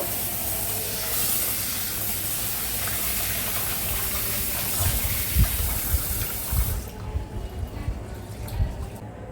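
Rice washed in water in a home kitchen: a steady rushing hiss of running water gives way to soft, irregular sloshing and splashing as the grains are swirled, close and fairly loud.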